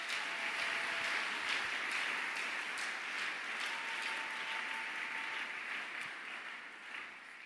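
A church congregation at a morning prayer service applauding God, sustained dense clapping from many hands, steady and somewhat distant, easing slightly toward the end.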